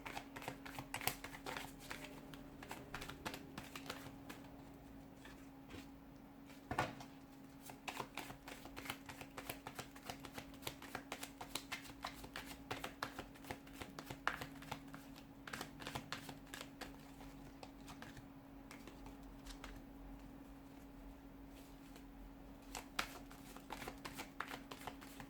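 A deck of tarot cards shuffled close and quiet, with a steady run of soft riffling card flicks and light taps under a constant low hum.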